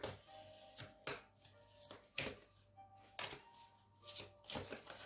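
Playing cards being shuffled and handled up close, soft riffling bursts and flicks in an uneven rhythm with quiet gaps between them, faint and without talk.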